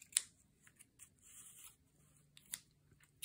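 Scissors snip through fabric strips for a rustic Christmas junk journal, a few quiet separate cuts spaced across the moment with faint room tone between them.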